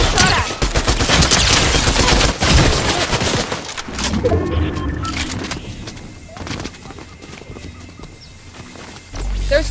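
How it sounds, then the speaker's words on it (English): Gunfire in Fortnite, a dense clatter of rapid close shots for several seconds, then thinning out into scattered pops and quieter game sounds. "I'm getting shot at!"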